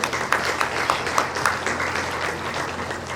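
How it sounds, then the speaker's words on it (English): A conference audience claps for the organizing committee, a steady wash of many hands applauding together throughout, with no talk over it. "please let's clap for them if you want to."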